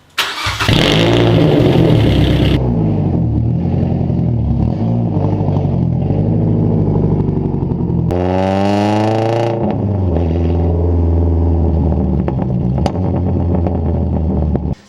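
Mazda NC Miata with an ISR muffler delete exhaust, a loud raw engine note that idles and then climbs through a sharp rev and falls away, close and alone.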